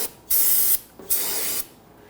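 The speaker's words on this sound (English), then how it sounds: "I'm actually going to use some spray solvent to clean that." Spray solvent hisses from an aerosol can onto engine parts of a 2017-2020 Hyundai Elantra 2.0L, two close, loud bursts of about half a second each separated by a brief pause.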